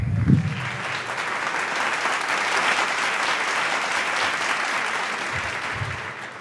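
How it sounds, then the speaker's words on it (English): A luncheon crowd at Opportunity Village in Las Vegas applauds for Senator Dean Heller, with sustained many-handed clapping that rises quickly and holds even and full for several seconds before tapering slightly. "You can all applaud"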